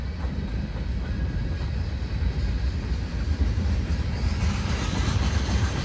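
A long freight train with many empty demolition cars rumbles steadily past close by, a continuous low rolling roar of wheels and wagons with no voices.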